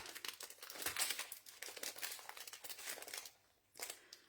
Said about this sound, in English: I've got double-sided tape.